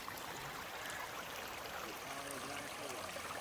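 Creek water flowing steadily along the Appalachian Trail, a continuous broadband rush and trickle heard close by with no voices over it.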